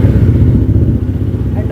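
A 2024 Jawa 42 FJ motorcycle engine idles steadily after a cold start, a low throbbing rumble that stays constant and fairly loud throughout.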